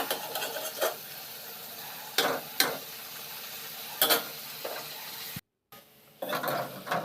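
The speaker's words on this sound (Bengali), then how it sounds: "অল্প লাল লাল করে আমি পনিরটা ভেজে নিব।" Paneer frying in a pan, with a faint background sizzle broken by several scraping strokes as the pieces are turned, plus a brief dropout near the end.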